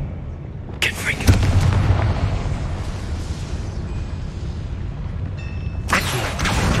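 A Confringo spell explodes in Hogwarts Legacy gameplay: a sharp blast followed by a long rumbling roar, with another burst near the end.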